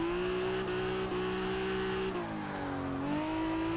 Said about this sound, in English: Accidentally put too much power down, spun up the rear wheels and the car started to pull a bit.